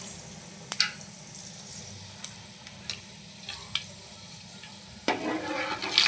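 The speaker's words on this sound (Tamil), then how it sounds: "வெந்தயம் பொரிஞ்சோடனே கொஞ்சோண்டு ஜீரகம் பெருஞ்சீரகம் போட்டுக்கலாம்" Fenugreek, cumin and fennel seeds spluttering in hot oil while making a South Indian fish curry: a steady soft sizzle broken by scattered sharp pops, close by and with no one speaking.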